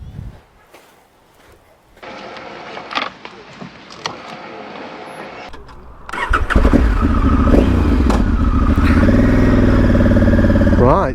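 A motorcycle starts up on a coast road near Blackpool Sands in Devon. After quieter handling and clicks, the engine catches and pulls away with a loud, steady, close-up drone. Wind noise rides along with it.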